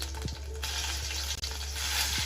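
Mustard seeds tossed into hot oil crackle and sizzle softly for a couple of seconds, with a few faint pops and a low steady hum underneath.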